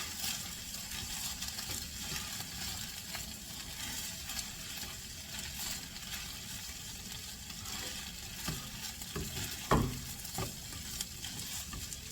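Chicken fried rice mixture stir-fried in a pan gives a soft continuous sizzle with scraping and clinking of a utensil against the pan, faint and steady, with a few sharper knocks near the end.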